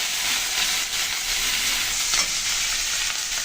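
Garlic paste and onion paste frying in hot oil with whole cumin and turmeric while cooking a prawn curry, a steady loud broadband sizzle throughout with a brief flare near the end.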